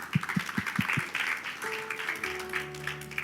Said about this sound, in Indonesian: Oh gak ada yang tepuk tangan, ya sudah tak tepuk tangan